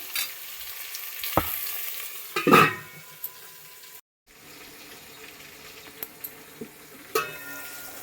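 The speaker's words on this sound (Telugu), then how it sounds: "ఇప్పుడు ఈ దొండకాయ అనేది మనకు ఆయిల్లోనే వేగాలండి" Ivy gourd fries in oil in a pan with a steady sizzling hiss, broken by a few sharp stirring clatters and a brief silent gap, with no one speaking.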